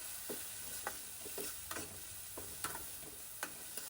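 Onions fry in a pan with salt and turmeric for chicken curry, giving a soft, steady sizzle broken by several brief scraping stirs of a spoon, fairly quiet and with no voices.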